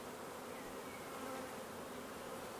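Honeybees buzzing at an apiary hive, a steady, dense close-up drone that runs unbroken from start to finish with no voices.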